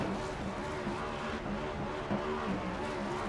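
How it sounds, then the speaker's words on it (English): A race car spins celebratory donuts on the front stretch at Chicagoland, its engine droning and revving in steady loops with tire noise underneath, no voices. "The 44 car of John Ross going to do some donuts here, do some celebrating here on the front stretch."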